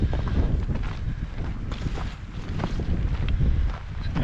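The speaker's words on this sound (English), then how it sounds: "Wind's picked up a little, but it's still pretty warm." Steady wind gusting on the Northeast Rim backpacking trail in Big Bend National Park, a continuous low rumbling buffet against the microphone that swells and eases throughout, with no talking.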